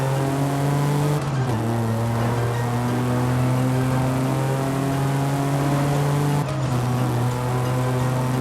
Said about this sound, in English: The new BMW M2 sounds trash.